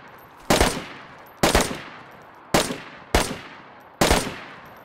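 Five sharp gunshots ring out in the video game DayZ, spaced roughly a second apart, each a loud crack with a short fading echo, with no talking.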